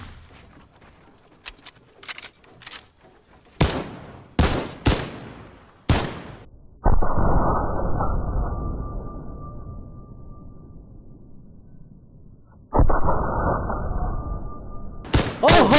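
Gunfire in a video game: a few sharp distant shots, then bursts of loud rapid firing, with a long trailing whoosh after two of the volleys and faint players' voices early on.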